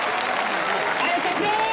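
Crowd at a bullring during a recortadores contest in Gandía applauding, a brief dense burst of clapping with an announcer's voice over it.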